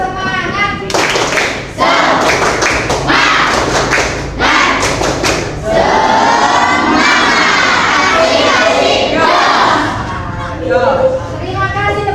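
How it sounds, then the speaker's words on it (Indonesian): Children in a school classroom perform the 'tepuk semangat' clapping chant, a loud group burst of rhythmic claps and shouted chanting, with an adult voice leading between the clapping rounds. "Oke, tepuk semangat."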